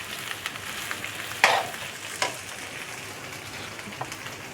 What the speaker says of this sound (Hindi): आंच को हम थोड़ा सा तेज़ कर देंगे ताकि फटाफट से ये फ्राई हो जाए